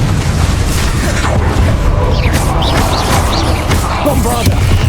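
A Confringo fire spell blast in the Hogwarts Legacy video game: a loud, booming explosive rumble with crackling bursts, over dense battle noise and background voices.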